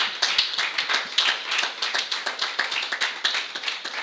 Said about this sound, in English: please also a big applause for Christoph, the founder of Africa Arena.